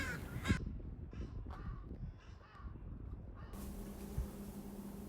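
Crows on a spring beach, busy feeding on clams, give repeated harsh caws at moderate distance over steady outdoor background noise.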